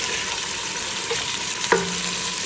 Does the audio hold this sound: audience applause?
no